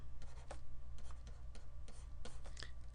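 Chalk or marker writing out a divergence equation by hand, a series of short scratchy strokes and taps in quick irregular bursts, close and fairly steady over a low room hum.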